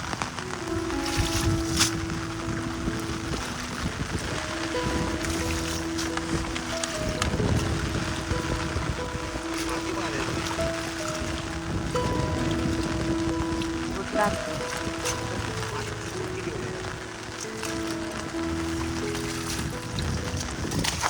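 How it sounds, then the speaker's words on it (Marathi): Steady heavy monsoon rain in the Konkan countryside by a tidal creek, a dense continuous wash of noise filling the whole clip while a person talks over it. "पाऊस पडतोय कंटिन्यू"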